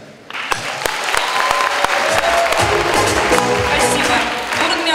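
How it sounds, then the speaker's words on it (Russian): Loud, dense applause from a student concert audience fills the hall after a few sharp opening claps, sending performers off the stage. It holds steady throughout, with no talk over it. "Бурными аплодисментами провожаем"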